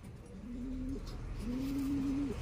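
A bird, tagged as a pigeon or dove, gives two soft cooing calls while eating, close by, with a low background rumble and no talk.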